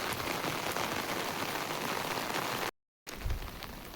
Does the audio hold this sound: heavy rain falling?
yes